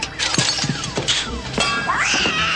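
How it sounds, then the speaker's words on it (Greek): A cat yowling as it is hit, several sharp thuds mixed with loud rising and falling caterwauls and meows, close and harsh. "Μαλάκα σκότουσες τη γάτα, τρέχε ρε μαλάκα."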